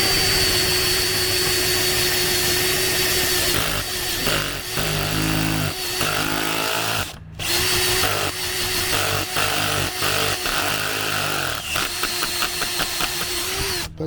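A power drill bores into the floor of a camper van, a loud, close whine that runs almost continuously with short pauses and changes in speed, and no talking over it.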